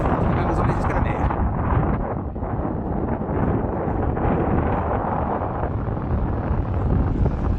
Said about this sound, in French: Je sais pas si vous entendez le bruit du vent ou des vagues